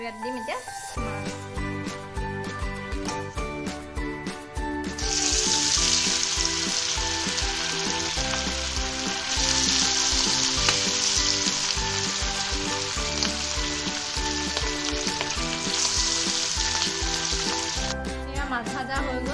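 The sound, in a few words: fish frying in hot mustard oil in a wok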